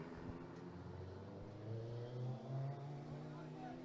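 Race cars pulling away at the start of a Formula Libre race, a steady layered engine drone with rising pitch swells as they accelerate off the line, heard at a distance under commentator speech.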